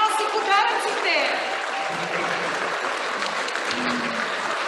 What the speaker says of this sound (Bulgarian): всички ще ръкопляскаме